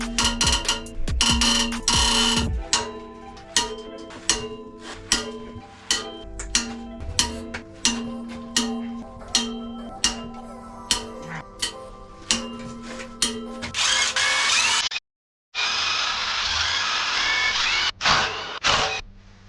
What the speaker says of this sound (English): we're going to loosen the outside head bolts first, then work our way inwards